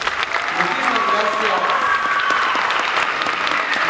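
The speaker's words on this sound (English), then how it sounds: "Another round of applause." Audience at a mariachi concert applauding, a dense wash of clapping that stays loud and steady throughout, with some voices mixed in.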